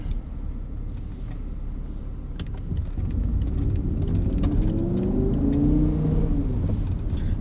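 Inside a moving BMW E61 M5 with a V10 engine, a steady low engine drone fills the cabin, rising slightly with faint whining tones over road rumble. No one talks.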